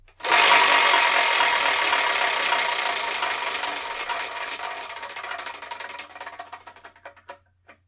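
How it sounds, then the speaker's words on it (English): A Wheel of Fortune style prize wheel spins with a loud, close, fast rattling clatter of pegs against the pointer that slowly thins out into separate ticks before stopping. "I'm going to spin that one, that only, the Wheel of Manga"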